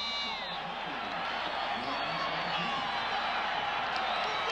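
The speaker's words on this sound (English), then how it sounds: "listen to the crowd" A large stadium crowd at a 2001 BYU at New Mexico college football game roars after a touchdown, a steady dense wall of cheering and shouting that holds loud and unbroken throughout.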